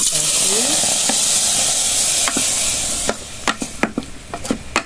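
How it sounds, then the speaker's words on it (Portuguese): Food sizzling and frying steadily in a pan on a charcoal stove, a constant bright hiss with occasional utensil scrapes and taps near the end. "Vou deixar fritando aqui"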